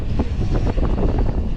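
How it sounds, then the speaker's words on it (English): Strong wind roars steadily across a microphone on a downtown Montreal street during a blizzard with blowing snow, a loud continuous rumble with gusty low buffeting throughout. "The wind is very strong."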